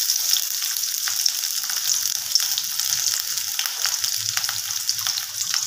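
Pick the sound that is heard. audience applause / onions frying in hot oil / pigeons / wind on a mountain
onions frying in hot oil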